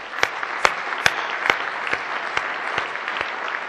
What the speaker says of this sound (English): So everybody, round of applause.